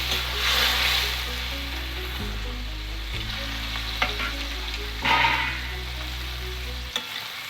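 Lentil dumplings (bori) sizzle and crackle in a pan with bay leaf for Bengali sukto, a steady close frying hiss with a few sharp clicks of stirring, no voices.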